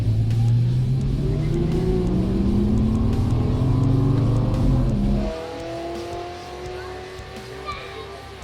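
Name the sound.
car accelerating in drag race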